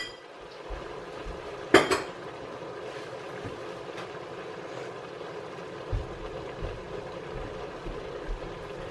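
Food being stirred in a pot while cooking dinner with garlic and salt, a faint, soft scraping with one sharp metallic clink of utensil on pot and a few quieter knocks, set against a low steady background hum.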